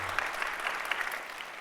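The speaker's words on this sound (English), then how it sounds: "Applause for the Erics." Brief burst of audience applause for the speakers at the close of a FinOps conference session, dense, even clapping from a crowd with no talk.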